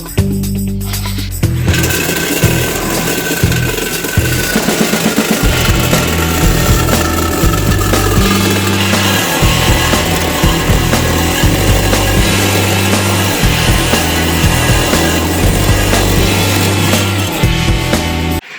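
A power saw cuts through the exhaust pipe of a Honda Wagon during a muffler replacement, a loud, harsh, continuous grinding buzz that pulses rhythmically as the blade bites into the metal.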